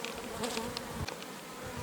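Agitated honey bees buzz around a log hive in a steady, faint drone, with a few individual bees passing closer now and then.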